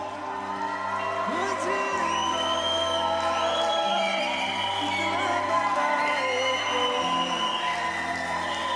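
Wedding reception guests cheer and whoop loudly as the couple, Rahul and Loveleen, enter, with a crowd roar, scattered shouts and a pulsing music beat running steadily underneath.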